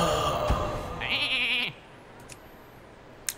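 Sheep bleating sound effect in the card game Hearthstone: a short wavering bleat under game music and effects, followed by faint chimes and a light click, fairly quiet.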